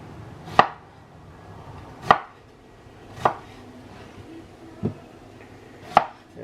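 A knife chops onions on a cutting board with five distinct, evenly spaced strikes about a second apart, close and crisp, with no talking.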